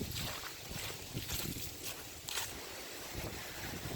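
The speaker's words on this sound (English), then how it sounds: "It's kind of windy today." Wind blows steadily outdoors in the woods at a trail camera, rushing and buffeting the microphone with soft gusts throughout.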